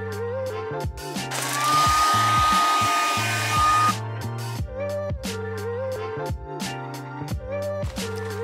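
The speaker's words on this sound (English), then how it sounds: "This is the only thing I need a hairdryer for." A hair dryer roars steadily for about two seconds, then cuts off, surrounded by clicking, ratcheting mechanical noises and a low hum, while trim is removed from a Skoda Octavia vRS MK4.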